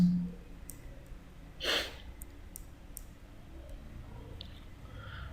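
Several sharp, faint computer mouse clicks, spaced irregularly, with one breathy sniff or exhale partway through, in a quiet room with no talking.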